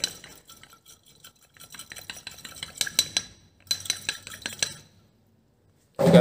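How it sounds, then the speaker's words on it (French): A bottle with hot water is shaken in several rattling, clinking bursts separated by short pauses, ending with a sudden loud thump. "Et j'agite la bouteille."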